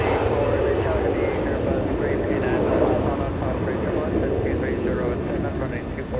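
An Embraer E175 jet airliner takes off at Los Angeles International Airport, its engines a steady, loud broadband roar that holds for several seconds while a person talks over it.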